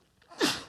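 A single person sneezes once up close, a short sharp burst that rises from a brief inhale into a loud airy release.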